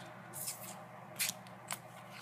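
A deck of trading cards for an X-Saber and Lightsworn card game is shuffled in three quick, crisp riffling bursts, close and clear with no talking.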